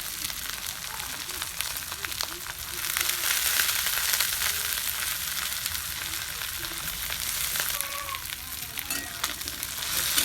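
Onion and soaked chana dal sizzle and fry in a pan for a bhusheri sandga dish, a steady broadband hiss that swells louder partway through, with faint scraping of stirring mixed in.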